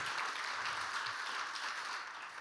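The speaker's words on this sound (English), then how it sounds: "let's give a round of applause to the great Terrence Blanchard" Warm, sustained applause from a seated audience at a jazz and film talk greets trumpeter Terence Blanchard, a thick wash of clapping that stays even and fairly soft before tapering slightly at the end, with no speech.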